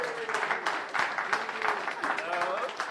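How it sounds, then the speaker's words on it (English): Applause at a live fifth-birthday gathering of the Umbraco community, a moderate round of clapping that pulses unevenly over roughly three seconds, with voices mixed in and partly over it. "Give Warren a round of applause."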